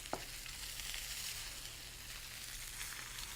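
Meat searing on its other side in a hot pan, a steady close hiss of sizzling fat with a single small knock at the start, no voices.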